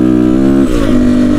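Crossfire RM 250 dirt bike engine revving on a muddy off-road track, a loud, close steady drone that rises in pitch partway through and holds at the higher pitch.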